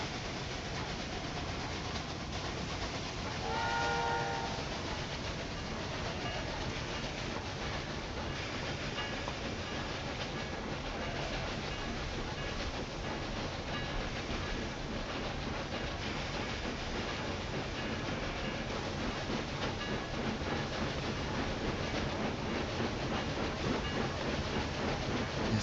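A train running along tracks in Railway Empire 2 gives a steady, continuous rolling rumble with faint rhythmic clatter and a brief whistle-like tone early on, sustained for the whole stretch.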